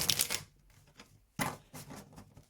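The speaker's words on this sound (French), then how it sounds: "excusez-moi pour ce bruit horrible quand je mélange mes cartes" Tarot cards being shuffled by hand: bursts of close, crisp riffling and flapping, one at the start and another midway, separated by brief quieter pauses.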